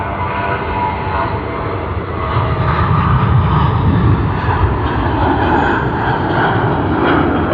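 A Jetstar airliner passes at Sydney Airport, its engines a loud, steady broadband roar that swells slightly midway and holds close throughout, with no voices.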